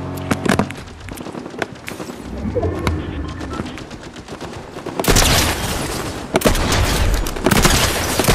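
Rapid bursts of gunfire and explosions from Fortnite, continuous and dense, getting louder and more intense partway through.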